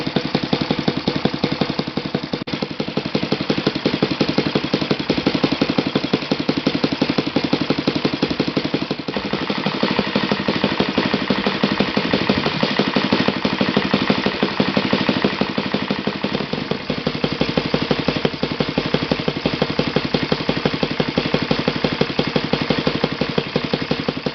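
A Saito FG-21 four-stroke model engine idles steadily on glow fuel, with a fast, even putter that holds close and constant for the whole stretch, with no voices over it.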